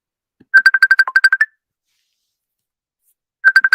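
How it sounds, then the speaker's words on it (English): A telephone rings with a rapid electronic warble, a burst of about ten quick pulses, then silence, then another burst starting, loud and close. "The phone is ringing."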